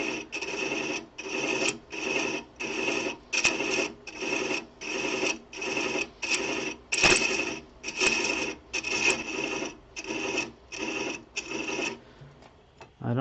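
Hand chasing threads into wood spinning on a lathe at a little over 300 rpm, a rhythmic rasping scrape repeated in about fifteen even strokes, close and fairly loud, with no talking.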